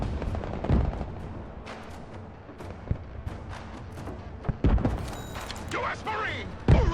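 Gunfire and artillery in the military strategy game Broken Arrow, with sharp shots and heavy thumps scattered through the clip, several close and loud, over constant battlefield noise and radio-style voice chatter.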